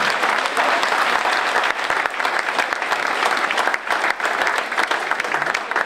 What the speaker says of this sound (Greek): παρακαλώ να δώσουμε ένα θερμό χειροκρότημα